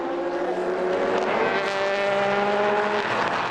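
Endurance race cars, including LMP3 prototypes, racing at the 2019 4 Hours of Barcelona produce a loud, high engine whine whose tones slide and overlap as several cars scream past at speed.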